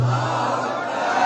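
Large crowd at a Shia religious gathering chanting a slogan together in unison, a loud, dense, sustained roar of many voices.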